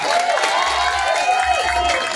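An audience at the Miss Gay Pangkalawakan 2023 national costume pageant on Banana Road, Malabon, keeps up steady applause and crowd noise throughout, with a host's voice and music heard over it.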